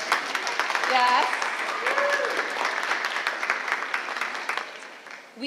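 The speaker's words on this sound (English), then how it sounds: "give yourselves applause" Audience applause from a large crowd at a middle school event, a dense steady wash of clapping lasting several seconds before tapering off, with a voice speaking over it.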